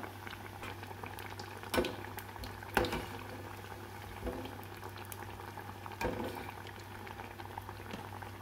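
Banana fritters fry in hot oil, giving a soft, continuous bubbling sizzle under a low steady hum, with a few sharper pops and clatters spread across the clip.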